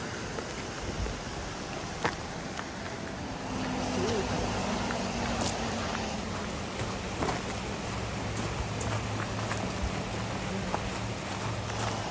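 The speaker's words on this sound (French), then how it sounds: "Pleut un peu." Light rain hissing steadily against a continuous engine drone, with occasional drops ticking through the wash of noise, during a typhoon in Japan.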